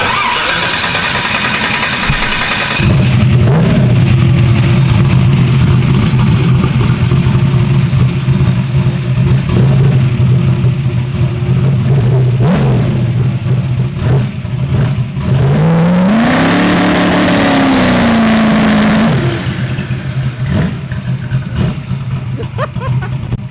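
A big-turbo small-block Ford V8 idles with a loud steady drone, then revs hard in a rising, falling sweep before settling back to a rough idle, close and loud throughout.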